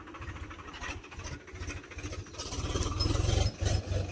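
A tractor engine runs close by with a steady low, throbbing rumble that swells louder in the second half, heard alone without talk.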